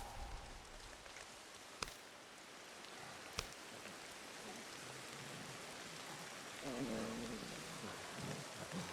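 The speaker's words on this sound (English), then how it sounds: "And it's starting to rain." Rain starting to fall outdoors in a woodland setting, a steady soft hiss of drops with a couple of sharp snaps and faint background sounds.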